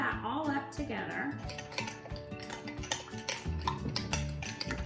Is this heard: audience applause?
no